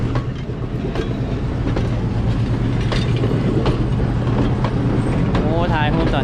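A train crossing the Nine Arch Bridge in Sri Lanka, a steady close rumble with rhythmic clickety-clack of wheels running under outdoor crowd noise and scattered voices.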